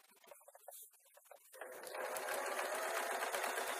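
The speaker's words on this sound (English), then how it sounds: "So all I'm doing is sewing around the outside." A sewing machine stitching around the outside of leftover fabric pieces for a small nut tray: a few scattered handling taps, then a steady close mechanical whirr that builds and runs on alone.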